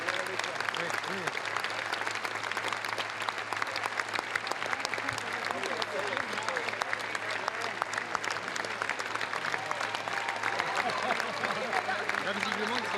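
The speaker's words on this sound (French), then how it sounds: "Là, visiblement, ils sont applaudis." Sustained applause from a large film-festival audience at Cannes, dense steady clapping with faint crowd murmur continuing evenly throughout at a moderate distance.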